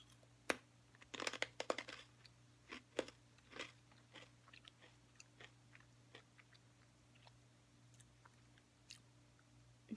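Crunchy, hard barbecue-flavored potato sticks chewed close up, sharp crackling bites early on, then a steady rhythm of smaller crunches fading over ten seconds against a quiet low hum.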